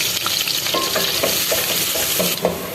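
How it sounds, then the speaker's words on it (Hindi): Onions fry in cooking oil toward golden brown for a dhaba-style egg and potato curry, a close bright sizzle broken by repeated scraping stirs of a spoon in the pan. "आप देखें ये प्याज ऐड कर रहे हैं, प्याज को जो है इसको भी ब्राउन करना है, गोल्डन ब्राउन कलर करना है इसका भी।"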